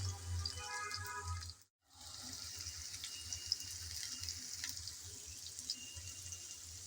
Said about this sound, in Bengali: এখন আবারও অপেক্ষা করব যাতে একটা সাইড ভালোভাবে ভাজা হয়